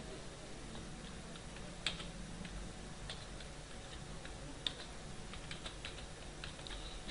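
Keys on a computer keyboard click faintly and irregularly while an Excel formula is entered, with soft scattered taps and a couple of sharper strokes over a steady background hiss.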